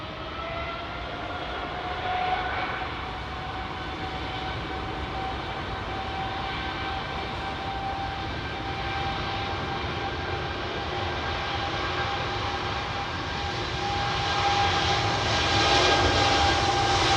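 A Qatar Airways jet at London Heathrow Airport rumbles with a steady, broad engine roar and a faint high whine, swelling slightly toward the end, heard from a distance with no voices.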